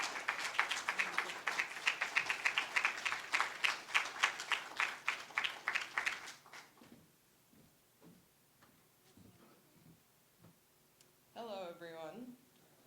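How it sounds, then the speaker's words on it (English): An audience at an awards ceremony claps for a winner, a few distinct, fairly sparse rhythmic claps that fade out partway through, followed by quiet room tone and a brief voice near the end. "please clap as I welcome our dear winner"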